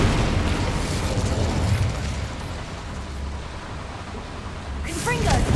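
Incendio fire spell cast in Hogwarts Legacy: a steady roaring burst of flame and rumble that runs throughout, with a sharper whooshing flare near the end.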